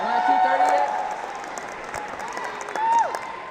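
Crowd at a competition cheering and clapping in a broad swell with a louder rise near the end, while a commentator talks over it.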